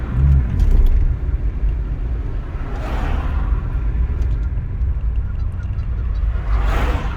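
A Rover K-series car engine with an unusual tick idles close by, giving a loud, continuous low rumble that swells slightly a couple of times.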